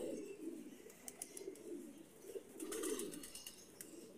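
Teddy Golden Ferozpuri breeder pigeons cooing close by in soft, repeated throaty coos, rising and falling in a loose rhythm, with faint light clicks and rustles between them.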